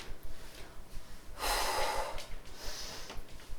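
A single strong, breathy exhale during a back and glute strengthening exercise, close and lasting about half a second, set against a soft, noisy background.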